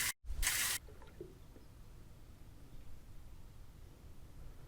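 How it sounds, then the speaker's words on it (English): Water draining from a sump pump discharge pipe out at the street after a French drain upgrade, a steady soft wash of flow after a brief loud burst at the start. "we'll go out to the street and see if the water's coming out the discharge"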